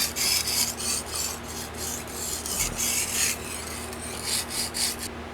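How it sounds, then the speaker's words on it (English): A chef knife is ground by hand on a sharpening stone, giving rhythmic, close rasping strokes, about a dozen back-and-forth scrapes with no speech. "I've switched to another stone that's just not quite as coarse."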